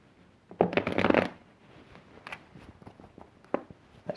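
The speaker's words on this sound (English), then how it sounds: "This cards are not wanting to shuffle." Tarot cards are shuffled by hand in a few quick bursts, one longer riffle of soft papery slaps followed by lighter scattered card flicks, close and fairly quiet with no talking.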